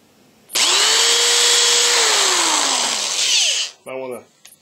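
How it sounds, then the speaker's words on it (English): A power drill or tap driver runs loud and close for about three seconds, winding up and then slowing as it cuts threads into a widened hole, followed by a brief burst of speech. "That's going to make it easier to tap your hole."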